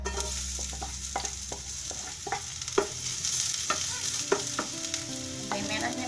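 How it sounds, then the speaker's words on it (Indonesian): Shallots sautéing in hot oil in a pan for tauco cabe ijo, a steady sizzle broken by a series of sharp clicks and scrapes from stirring, close and fairly loud, with no talk. "Kita tumis bawang merah dulu ya."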